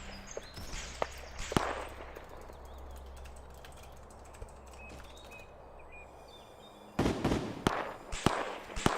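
Gunfire in a video game battle, sharp cracking shots scattered throughout, with dense rapid bursts toward the end, some loud and close, others more distant.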